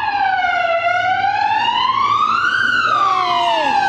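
An ambulance siren wails close by, one long rising and falling sweep that climbs, peaks and drops again, loud over faint traffic rumble.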